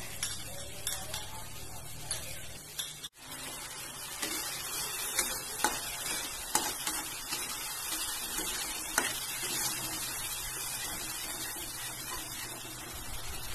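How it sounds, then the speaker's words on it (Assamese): Masala and yogurt fry in a pan on the stove, a continuous soft sizzle broken by occasional spoon stirs and light clinks against the pan, with no voices. "দৈখিনি ধুনীয়াকৈ মছলাখিনিৰ লগত ধুনীয়াকৈ অকণ সময় ভাজিম"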